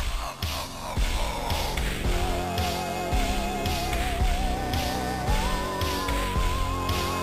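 SNES soundtrack from Plok: dense, steady chiptune-style music with a wavering lead melody over busy percussion and bass, playing continuously and loud with no talk.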